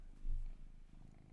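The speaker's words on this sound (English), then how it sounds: "I have a cat on me now." A pet cat in the Hero Wars video game purrs softly, a low rumbling purr that swells briefly and then continues faintly.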